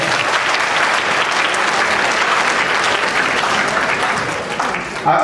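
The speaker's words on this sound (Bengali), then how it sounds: "সময়ের জন্য একটা হাত তালি দাও সবাই" An audience at a spiritual talk breaks into sustained, dense applause that holds steady for several seconds before tapering off near the end.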